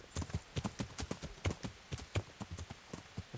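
Horse hooves clip-clop in steady, fairly brisk rhythm in the medieval role-playing game Kingdom Come: Deliverance, each sharp strike close and distinct with no talk over it.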